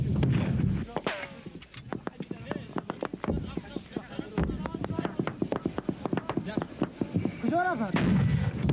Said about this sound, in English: mortars and recoilless rifles began a barrage of covering fire.